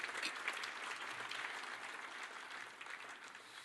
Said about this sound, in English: So just a quick round of applause for all the supporters and sponsors that make